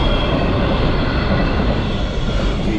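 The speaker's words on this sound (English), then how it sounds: "Huge big freight train going by." A huge freight train rolls past close by, a loud, continuous rumbling roar of rail cars with steady low-end heaviness throughout.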